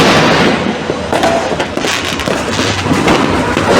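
New Year's fireworks are going off in Malinta, Valenzuela. Loud, close, continuous bursts and crackling pops overlap without a break.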